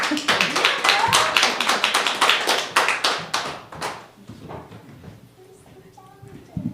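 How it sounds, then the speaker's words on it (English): Applause from an open mic audience for a reader, a dense burst of many hands clapping that thins and fades out over the last few seconds. "Another round of applause for Jennifer."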